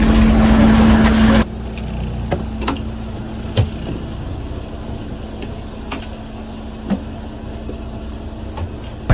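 A state transport bus setting off on a rural route, a loud engine drone that drops abruptly, then a quieter steady hum with scattered knocks and rattles inside the cabin.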